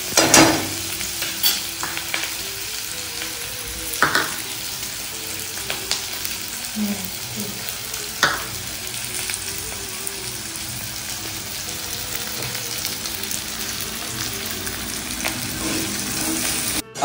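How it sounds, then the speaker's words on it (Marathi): Chopped onion frying in hot oil as the base for homemade Chinese noodles, a steady close sizzle with occasional stirring scrapes and clicks in the pan, running alone throughout. "याला मस्त आपण तेलामध्ये फ्राय करून घेऊया."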